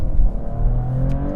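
Deep, steady engine drone of a sports car running at moderate revs, loud and close, with a rising harmonic whine.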